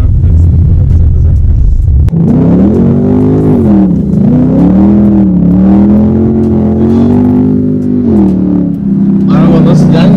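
A Ford Mustang 5.0 GT V8 with a Borla ATAK exhaust rumbles loudly close by, a sharp blip followed by a deep, wavering idle with rising and falling revs, talk faintly underneath.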